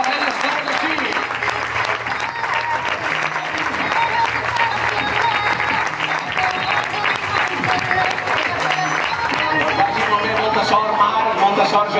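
A crowd at a youth basketball club's season presentation applauds its coaches with sustained, loud clapping that lasts the whole time, with a low hum and some voices underneath.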